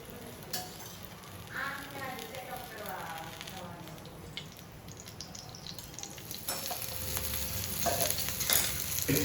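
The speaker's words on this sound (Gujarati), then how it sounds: "જો હવે આ મરચાં છે ને એને લોઢીમાં સાંતળી દેવાના છે." Chilies sautéing in an iron pan, a steady close sizzle and frying crackle with stirring, growing denser toward the end, and a voice speaking over the first part.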